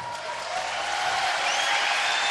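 Applause from the audience at a martial arts festival, a steady, fairly soft patter of clapping that builds slightly and goes on for the whole moment with no voices over it.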